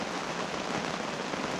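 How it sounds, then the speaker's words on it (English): Super heavy rain pours onto a hot tent at a winter camp in Glen Affric, a dense, steady hiss of drops drumming on the fabric, loud and unbroken with no voices. "Super heavy rain."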